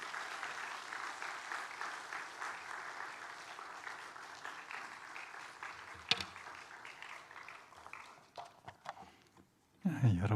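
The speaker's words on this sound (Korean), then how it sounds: "우리 나오실 때 박수로 강사님 환영하겠습니다" A congregation at a Friday worship service claps to welcome the guest preacher, steady soft applause from a sizeable crowd, fairly distant, fading out before a brief louder burst of sound at the end.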